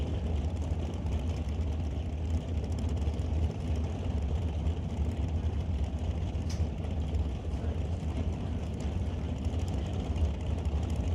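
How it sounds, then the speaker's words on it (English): A Camaro drag car at an NHRA Super Pro race start line, its engine holding a steady, loud, low rumbling idle as it rolls forward, with no break in the drone. "the Camaro here on the left side, doing a wheelie bar adjustment back here, and now rolling forward."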